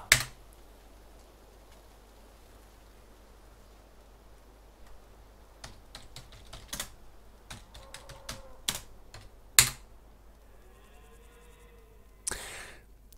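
Console commands typed on a computer keyboard produce close, crisp key clicks: scattered taps early on, then denser bursts of typing with pauses between, with no talking.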